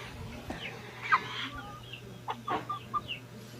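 Rhode Island Red chickens in a backyard free-range flock cluck softly in short, scattered bursts, one louder call standing out, over a low steady hum.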